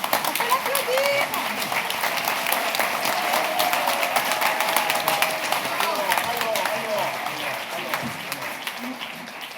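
A seated group bursts into warm applause, clapping densely for several seconds before it gradually thins out, with a few voices murmuring underneath.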